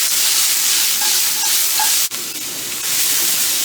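Onions and peppers for chicken fajitas sauté in a pan, giving a steady, close frying hiss and sizzle with light stirring, no voices, and one brief dip partway through.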